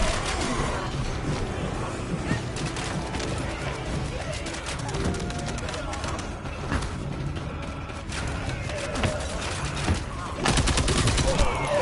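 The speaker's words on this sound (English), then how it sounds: "Summoning assault turret." Assault turret firing in the video game The First Descendant: dense, continuous rapid gunfire with overlapping shots and mechanical clatter, loud and sustained for the whole stretch, growing heavier near the end.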